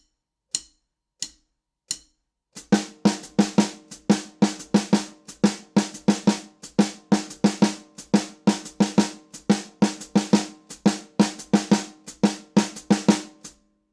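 A drum kit plays a syncopated rhythm that starts on the second sixteenth of the beat. A few sparse hits come first, then a steady run of dense, closely spaced strikes, loud and close, with no voice.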